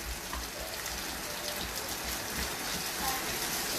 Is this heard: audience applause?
no